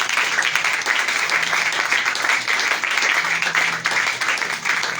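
Church congregation applauding during a sermon, a dense, steady roar of many hands clapping throughout, loud and continuous.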